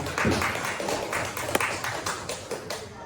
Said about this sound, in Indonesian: kasih tepuk tangan dulu untuk Pak Anas sama Mas ya